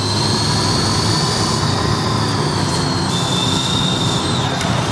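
A Ford F-150 Lightning electric pickup drives in Forza Horizon 5, giving a loud, constant roar with a high whine layered on top, steady throughout with no voices.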